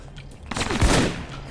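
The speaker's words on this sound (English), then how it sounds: "He's shooting at me." Enemy gunfire in the video game Alpha Protocol, a short rattling burst of shots that swells up close and then tails off within about a second.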